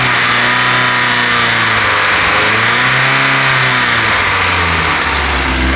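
Engine of a VW Golf GTI 1.8 16v fitted with swapped camshafts, revving steadily and loud with rising and falling harmonic sweeps and a droning resonance in the mid range, no talk over it.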